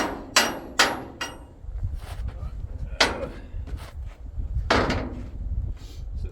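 Sharp metallic taps from a small tapper hammer striking metal pipe during shop fabrication, a quick burst of three hits followed by scattered single strikes over a low rumbling background.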